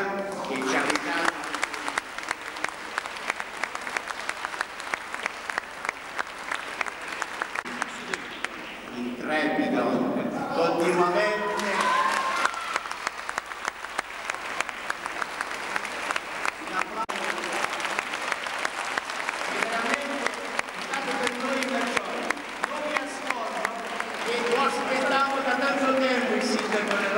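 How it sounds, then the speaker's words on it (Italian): A concert audience in a church claps steadily and enthusiastically for a long stretch, applauding the orchestra, the rhythmic applause briefly dipping while a voice speaks, then swelling again. "per cui un applauso di cuore"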